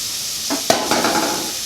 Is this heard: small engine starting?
no